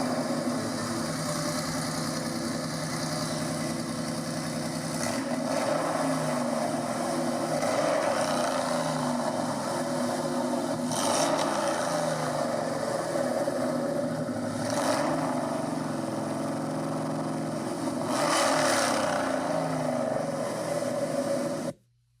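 A Porsche 964 with a newly replaced exhaust runs steadily with a deep engine drone, swelling in a few revs before cutting off abruptly at the end.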